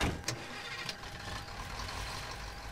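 Jeep engine in the video game Far Cry 2 runs at a steady idle, a low mid-pitched rumble throughout with a brief louder start and a couple of short mechanical clicks near the beginning, no talking.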